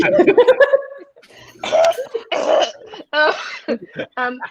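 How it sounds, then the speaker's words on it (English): A woman coughs after smoking weed, a rapid run of harsh hacks, then keeps sputtering and clearing her throat in uneven bursts up close. "Sheri just smoked weed, so she's coughing a lot."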